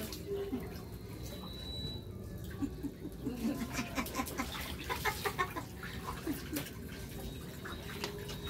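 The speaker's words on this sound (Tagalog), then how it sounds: "Chicken manok." Chickens cluck in short, scattered bursts amid background voices and ambient noise, moderately close.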